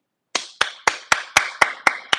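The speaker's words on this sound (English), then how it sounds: "Clap it up for yourselves" Eight sharp, evenly spaced hand claps from a single person, close and crisp, each ringing briefly before the next, with no talking.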